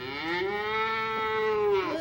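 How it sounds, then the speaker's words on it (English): A cow moos in one long, drawn-out call played back from a tape recording made on a farm, clear and fairly close, with no talking over it. "Oh, that's my old friend the cow."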